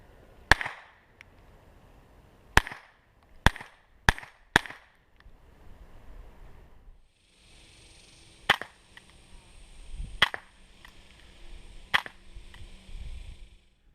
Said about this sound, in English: using a Ruger 8334 bolt gun with Gemtech subsonic ammo